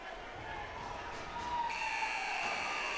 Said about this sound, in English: Right to the final buzzer, George.